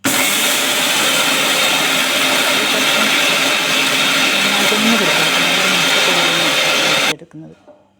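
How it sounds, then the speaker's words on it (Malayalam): An electric kitchen grinder runs loudly and steadily as it grinds cooled rice into powder. The whir holds for about seven seconds, then stops abruptly and spins down. "അപ്പോൾ നമുക്കങ്ങനെ അരി തണുത്ത് വന്നിട്ടുണ്ട് അപ്പോൾ അതിനെ ഒന്ന് പൊടിച്ചെടുക്കാം"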